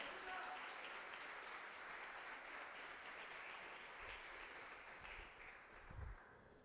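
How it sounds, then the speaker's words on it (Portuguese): Applause from a church congregation during a Sunday service comes through faint and distant as a continuous wash of clapping, with a few low thumps near the end. "dê uma salva de palmas a Cristo"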